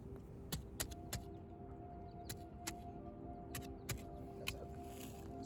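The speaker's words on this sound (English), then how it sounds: "I found a stick, and what I did is I poked gravel and I made this into a hi-hat pattern" A stick pokes at loose gravel in a hi-hat-like rhythm, producing sharp, brief ticks spaced irregularly over a quiet outdoor background hum, with no voices.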